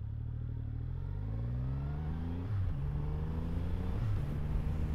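A 2023 Triumph Rocket III motorcycle engine runs close by with a deep, steady rumble, rising in pitch as it revs through gear changes, continuous and loud without speech.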